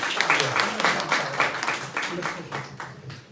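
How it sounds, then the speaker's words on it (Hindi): Audience applause at an Urdu mushaira, dense clapping that swells and then gradually tapers, with voices mixed in under it. "एक दफा फिर ताली बजाएं"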